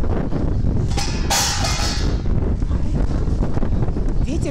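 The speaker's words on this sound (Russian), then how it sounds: "Ветер такой, все сносит." Strong gusty wind buffets the microphone at an outdoor food festival in Moscow's Victory Park, with a heavy, continuous low roar and a brief rushing surge.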